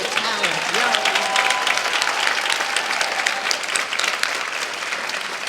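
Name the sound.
audience applause after arts performance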